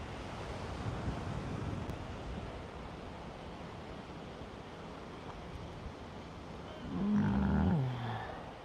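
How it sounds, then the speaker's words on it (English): Ocean waves wash steadily beneath a constant breeze and wind buffeting on the microphone, with a fuller surge rolling in near the end. "Feel that ocean breeze"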